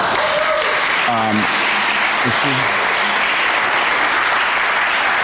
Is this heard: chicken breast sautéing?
no